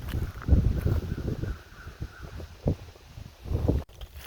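Wind gusts buffet the microphone at a historic graveyard laid out in the shape of a shield, as a low rumbling roar that swells and fades in irregular bursts, with no voices heard.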